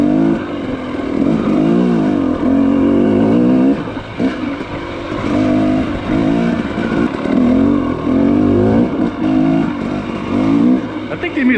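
Sur-Ron electric dirt bike being ridden off-road, with a steady motor whine and wind noise rising and falling continuously, close and loud throughout, with voices talking over it.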